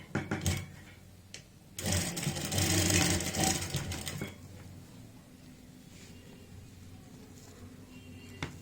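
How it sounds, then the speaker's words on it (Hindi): A sewing machine stitches the belt of a ready-made saree, with a short burst early on and a long steady run in the middle, then quiet handling noises. "अब ऊपर से हम इसको पक्का करते हुए यहाँ पे सिलाई लगाएंगे।"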